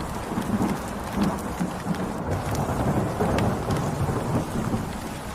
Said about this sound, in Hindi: ये अचानक इतनी तेज बारिश कैसे होने लगी?